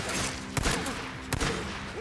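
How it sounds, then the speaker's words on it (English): Gunfire in the video game Days Gone: two sharp shots about three-quarters of a second apart, loud over a steady background of game ambience. "Stop shooting"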